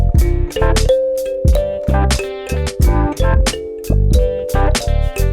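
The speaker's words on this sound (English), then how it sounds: "secondary guitar sound." Secondary guitar counter melody plays over a thumping beat, sustained tones with plucked chordal hits in a steady groove, loud and close, with no talk.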